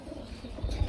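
Racing pigeons coo in a brief, close burst, a low throaty murmur swelling louder toward the end.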